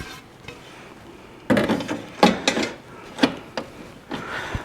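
A griddle pan is set into a Ninja Woodfire Pro outdoor grill with a few sharp metallic clanks and knocks, close by and uneven, after a quiet start.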